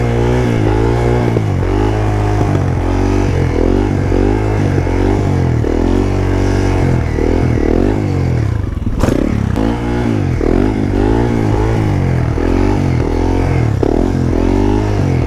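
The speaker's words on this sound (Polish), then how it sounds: "No najpierw wolne gumy chciałbym opanować na czterosuwie" Four-stroke motorcycle engine revving steadily through slow wheelie practice, a loud continuous drone with repeated throttle swells and a brief clattering scrape near the middle.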